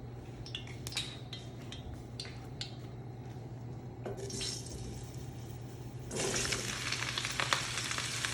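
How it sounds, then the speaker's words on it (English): Mushrooms go into a hot pan in a kitchen, with a few light clinks of utensils first, then a building sizzle that swells into a louder, steady frying hiss near the end. "So we're gonna add the mushrooms."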